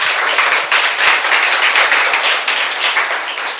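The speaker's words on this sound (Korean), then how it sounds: "우리 박수 한번 할까요?" Audience applause fills the room at a lecture on counseling, a dense, steady wash of many hands clapping loudly and continuously with no talk over it.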